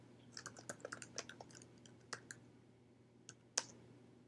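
Quick, light clicks of computer keys as an email address and password are typed. Short bursts of keystrokes come close together with pauses between them, and one sharper tap near the end. No voices.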